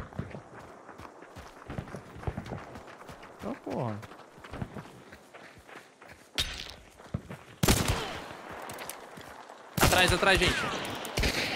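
Gunfire echoes in Hunt: Showdown 1896, with scattered distant shots, footsteps and movement, then several loud close bursts near the end, while players talk over it.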